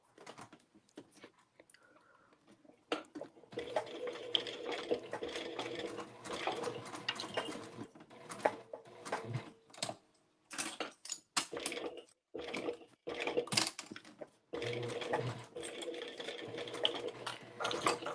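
A domestic sewing machine runs in bursts while top stitching a circle bag seam at 3/8 inch near a D-ring, with short pauses between runs and faint whispery speech in the background.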